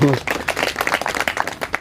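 A group at a yoga and breathing session claps briefly after a short voice at the start, giving a quick, uneven patter of hand claps that stays close and moderately loud.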